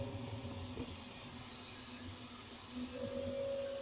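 A small 1-gallon Arm & Hammer vacuum cleaner runs with a faint, steady motor drone and a whine whose pitch shifts slightly, in a workshop with laser equipment.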